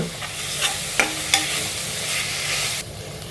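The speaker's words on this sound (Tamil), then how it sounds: "வடிகட்டி வச்சுருக்கிற அரிசி பருப்பு அதையும் சேர்த்து கொஞ்சம் நல்லா வதக்கி விட்ருங்க." Soaked, drained rice and dal sautéed with ginger-garlic, cinnamon and clove paste for dal kichadi, a continuous close sizzle broken by a few sharp spoon taps and scrapes against the pan, stopping abruptly near the end.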